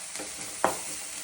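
Ingredients roasting in a hot pan for rava vada, a soft sizzle with one brief stirring scrape, quiet and close, no talk.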